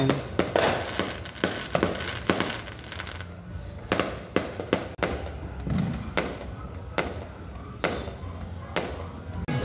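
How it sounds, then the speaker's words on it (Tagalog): Firecrackers go off outdoors on New Year's Eve night, a string of sharp bangs and thuds at irregular intervals, some loud and close, others more distant, with voices faintly in the background. "At saka ito na ngayon ang ating putukan na"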